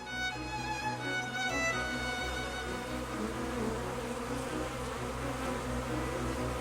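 Close, continuous buzzing of a bee in flight as it gathers nectar and pollen, a steady droning hum that shifts slightly in pitch as it moves about.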